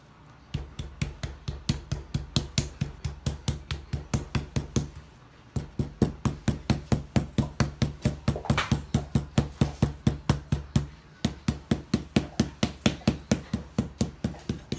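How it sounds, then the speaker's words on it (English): A mallet pounding trimmed steak pieces flat on a board, a long run of sharp, evenly spaced thuds at a quick steady rhythm, close and loud, with two brief pauses between bursts. "what I'm gonna do is just take a mallet and kind of flatten them out some"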